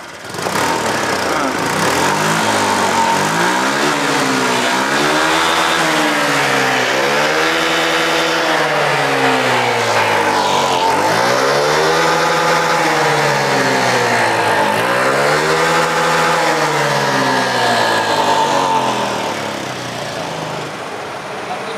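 A Honda Vario 125 scooter with a fault that leaves it sluggish on hills and slow to respond to the throttle, its engine revved repeatedly up and down in rising and falling waves, loud and close, for about twenty seconds.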